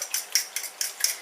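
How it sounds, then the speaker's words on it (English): Vegetable bake ingredients being stirred together in a bowl, giving a run of light clinking and scraping strokes in an even rhythm, close and fairly quiet with no talking. "And we'll just mix that together."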